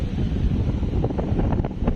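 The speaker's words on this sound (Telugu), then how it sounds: "ఇక్కడ గాలి భయంకరంగా తోలుతున్నా" Strong wind blows at a beach in Kuwait, a loud steady rumbling buffet of wind noise across the microphone with faint surf underneath, constant throughout.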